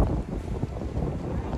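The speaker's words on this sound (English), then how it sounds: "It's also very cold and very windy." Strong wind gusts buffet an outdoor microphone on a very cold, icy day, a loud continuous low rumble that swells and dips without pause, with no clear talk over it.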